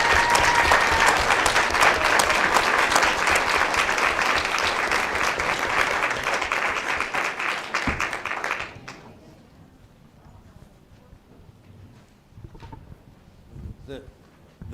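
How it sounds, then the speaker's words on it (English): A school board meeting audience gives sustained, dense applause for about nine seconds, then it cuts off, leaving quiet room noise with a few faint knocks and some talk. "How about another round of applause for these amazing men and women?"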